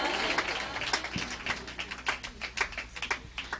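People clap for a birthday girl at a family gathering, an uneven patter of hand claps from a small group that carries on steadily with a few voices underneath.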